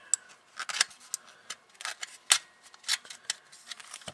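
Plastic casing of a computer mouse being pried apart, a string of sharp clicks, snaps and scraping ticks at close range, irregular and bursty, with no talking.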